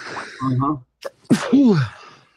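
A single sneeze stands out between bits of speech, a sharp burst preceded by a short breathy intake, close to the listener.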